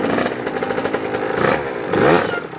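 A Suzuki RM85 two-stroke dirt bike revs hard and close in first gear for backyard wheelies, its raspy engine climbing and surging in rapid bursts.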